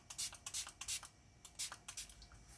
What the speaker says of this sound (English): I'm gonna spray a little bit water.